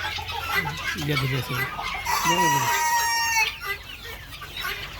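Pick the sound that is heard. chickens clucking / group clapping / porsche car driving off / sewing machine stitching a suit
chickens clucking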